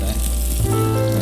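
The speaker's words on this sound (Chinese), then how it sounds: "跟蒜往里一搁， 真下锅真下。" Garlic sizzles in a hot wok, a steady dense crackle that continues unbroken through the moment, close and fairly loud with no voices.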